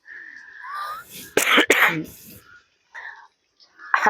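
A pair of sharp, harsh coughs from someone with a cold burst out close by, surrounded by brief vocal sounds and short pauses.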